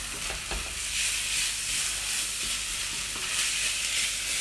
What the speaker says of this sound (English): Half a teaspoon of Dijon mustard. Give all that a good old stir.